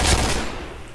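Burst of rapid gunfire in a first-person shooter video game, a loud, dense fusillade that fades out within a second.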